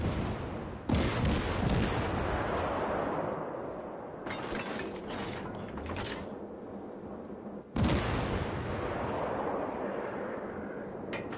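Warship guns firing in the naval combat game World of Warships, two heavy booming salvos a few seconds apart over a constant rumbling battle background, with smaller distant blasts between them.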